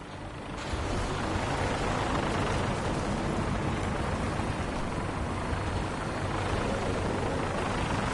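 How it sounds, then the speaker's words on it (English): A video game vertibird aircraft engine roars in a dense, steady wash of rotor and turbine noise that starts abruptly and holds loud and unbroken throughout. "we have a vertibird on standby, fully armed and ready to depart"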